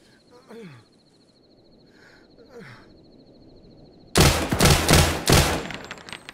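Rapid double-tap rifle shots in Arma 3 combat, a loud cluster of sharp cracks in quick pairs after a quieter stretch with faint voices and whistling sounds.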